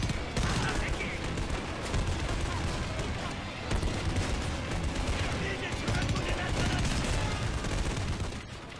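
Sustained gunfire in the video game Homefront, with dense bursts of automatic fire and explosions rolling continuously at a loud, steady level, partly mixed with voices.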